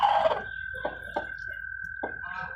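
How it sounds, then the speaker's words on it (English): Several short toad croaks sound at uneven intervals over a steady high-pitched insect-like drone, fairly close, with no voices. "I heard the toads."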